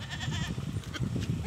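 Goats bleat close by, several short, wavering calls overlapping in quick succession over a brief span.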